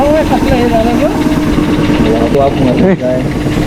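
A car engine idles at a steady, close drone after warming up during a stop to check the tyre air and oil, with people talking over it.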